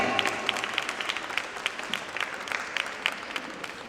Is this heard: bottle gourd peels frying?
no